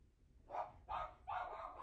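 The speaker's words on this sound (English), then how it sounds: "Sorry, I don't know why my dog is barking." A pet dog named Luna barks three times in quick succession from inside a house basement, each bark loud and close, with brief pauses between them.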